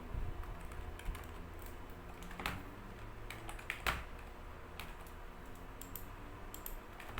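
Typing on a computer keyboard during accounting work, quiet irregular key clicks with a few sharper taps, close and alone without talk.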